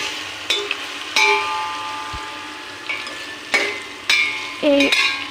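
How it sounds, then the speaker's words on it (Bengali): Whole garam masala spices sizzle softly in hot oil in a wok while a metal utensil strikes the pan several times with sharp, ringing clinks. "কড়াইতে তেল দিয়ে গরম করে ওটাতে দিয়ে দিলাম কিছু গরম মশলার ফোড়ন দিয়ে একটু ভেজে নেব"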